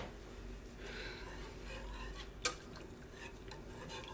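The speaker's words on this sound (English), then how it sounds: "And you have to just keep stirring" A spoon stirs queso with milk in a pot, a steady soft scraping swirl at close range with one sharp clink of utensil against metal midway, no talking.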